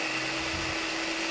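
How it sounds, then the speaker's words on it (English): A blender whirs steadily at close range blending strawberries into liquid, a loud continuous motor drone with a brief shift in pitch. "put them in the blender and blend them up till they're just liquefied"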